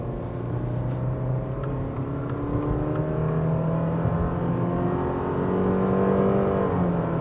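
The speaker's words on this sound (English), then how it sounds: "it definitely takes it to the high RPMs at half throttle, but it eventually does get up and move." A 2025 Subaru Forester Premium's 2.5-liter engine pulls at half throttle, its steady drone climbing in pitch to high revs and holding there, loud and continuous inside the cabin with no talk.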